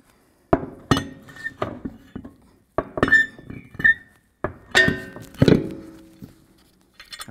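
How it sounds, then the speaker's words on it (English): A wheel goes onto the front hub of a Ford F-350 dually truck with a series of loud, close metallic clanks, knocks and rattles in uneven bursts and no talk. "Let's get our wheel up on here."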